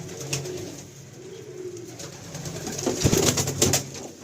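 Racing pigeons cooing softly in a loft, low repeated coos with rustling and a few knocks.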